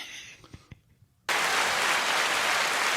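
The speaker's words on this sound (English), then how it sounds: "Applause for you being right." An applause sound effect bursts in abruptly after a few faint murmurs and clicks, then continues as a loud, steady wash of clapping to the end.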